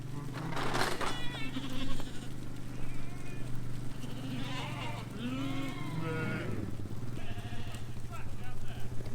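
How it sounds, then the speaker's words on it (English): Several sheep bleat repeatedly, some wavering and drawn out, with a steady engine-like hum underneath throughout. "Oh, no, sheep!"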